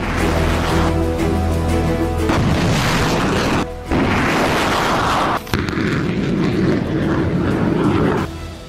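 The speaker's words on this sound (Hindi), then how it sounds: "ज़ेलेंस्की ने अमेरिका से मिली M777 तोप से लेकर हिमार्स के रॉकेट हमले दिखाए हैं।" Artillery and rocket fire from M777 howitzers and HIMARS launchers in war footage, loud sustained booms and blasts that rumble continuously with brief cuts between shots.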